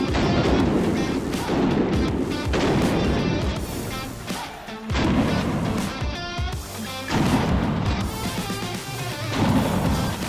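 Dense, loud firearm gunshots from a home defense shooting test, with repeated heavy reports and echoing crashes running continuously at close range.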